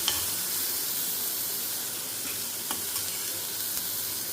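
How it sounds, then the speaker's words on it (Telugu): Boiled chickpeas (guggillu) fry in a pan, giving a steady, dense hiss of sizzling oil with faint crackles scattered throughout, close and continuous with no voices. "ఇక్కడేమో గుగ్గిళ్ళు అయితే వేగుతున్నాయి"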